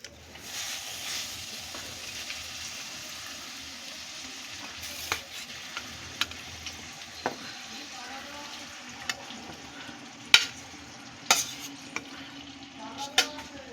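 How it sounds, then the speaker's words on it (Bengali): Fish oil heating in a wok while making a fish roe and fish oil curry gives a low, steady sizzle with scattered sharp pops and crackles, faint and close, with no talking. "প্রথমে আমি কড়াইতে দিয়ে দিচ্ছি মাছের তেলটা।"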